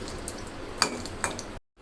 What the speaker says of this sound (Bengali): চুলায় একটা কড়াই বসিয়ে আমি একটা সামান্য একটু তেল দিয়ে দিলাম এখানে মরিচগুলো ভেজে নেব